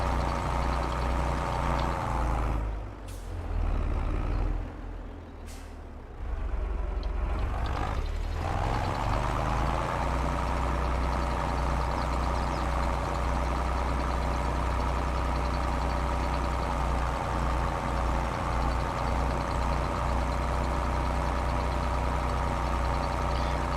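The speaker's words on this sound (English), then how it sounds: "the manual transmission adds a lot to the sound in the game and the motion in game, the tractors and movement and stuff" A tractor engine idles in Farming Simulator 22 with a steady low diesel rumble, briefly interrupted by a couple of short pauses and shifts early on, then running evenly and moderately loud to the end.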